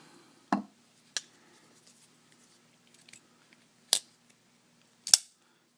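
A Lionsteel SR-1A knife with a D2 steel blade makes several sharp cutting snaps, five distinct crisp strikes spaced unevenly over a few seconds against a quiet background.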